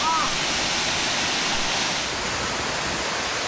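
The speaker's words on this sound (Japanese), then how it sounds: "それにしてもすごい轟音です。" Roaring waterfall at Shirogane Falls in Hokkaido, swollen with heavy water flow, a loud, steady wash of broadband noise filling the whole clip with no pauses.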